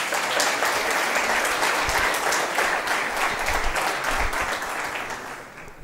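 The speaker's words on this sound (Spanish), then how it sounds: "Vamos a dar un aplauso" Audience applause at an ethnographic gathering in the Canary Islands, a dense, steady wash of many clapping hands that holds strong for nearly six seconds before easing slightly at the end.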